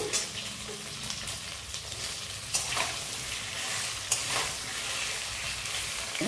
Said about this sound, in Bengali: এই কচুরমুখিটা এখন একটু তেলে ভেজে নেব